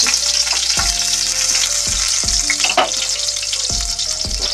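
Chopped garlic and five-spice (panch phoron) sizzle steadily in hot oil while a spatula stirs and scrapes the pan in a few distinct strokes; loud, close and continuous, with no talking.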